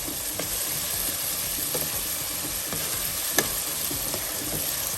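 Rice and aromatics for tomato rice sauté in a pan, a dense even sizzle with faint rhythmic stirring ticks and one sharper clink, close and constant, with no speech.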